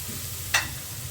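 Chopped mint and coriander frying for kushka give a single brief stirring scrape over a faint, steady background hiss.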